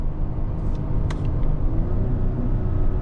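A 2024 Mazda CX-90 three-row SUV in sport mode holding gears, its engine droning low and steady under road rumble as it downshifts, with a brief clunk near the start.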